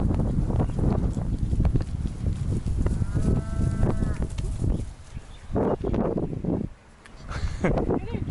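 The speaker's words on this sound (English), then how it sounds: "Walking into town here, a couple of goats on the sidewalk." A couple of goats on a town sidewalk in Uzbekistan bleat in short wavering calls, mixed into busy street noise, wind and someone talking nearby.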